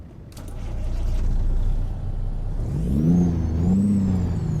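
A steady truck engine drone with a rising rev and whining pitch, loud and continuous throughout, from a Kenworth T660 with a 3406 engine in American Truck Simulator.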